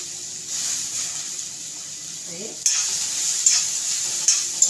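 Bitter gourd sizzles steadily in a pan, with a soft stirring scrape partway through and the frying growing louder afterward.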